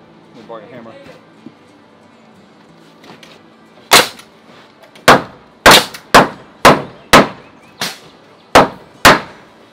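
A hammer drives nails during a residential roof remodel: after brief faint talk, about nine sharp, loud, close strikes land in an uneven rhythm, some in quick pairs.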